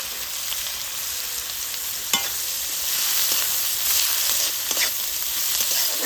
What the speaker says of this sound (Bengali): পেঁয়াজগুলো নাড়াচাড়া করে একটু ভেজে নিচ্ছি।